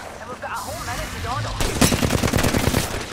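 Automatic gunfire in a battle royale shooter game, with rapid bursts erupting loudly in the second half after a quieter stretch of game ambience and brief chirping effects.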